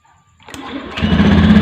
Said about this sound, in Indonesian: sekarang kita kontak, kita hidupkan motor 3 detik saja